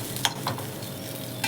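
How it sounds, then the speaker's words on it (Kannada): Grated coconut frying in a pan for Mangalore-style tondekai sukka gives a faint, steady sizzle, broken by three quick spatula scrapes against the pan. "ಸ್ವಲ್ಪ ಕೊಬ್ಬರಿನ ಕೂಡ ನಾನು ಇದಕ್ಕೆ ಬಾಣಲೆಗೆ ಹಾಕಿಬಿಟ್ಟು ಇದನ್ನು ಕೂಡ ಫ್ರೈ ಮಾಡ್ಕೊತೀನಿ"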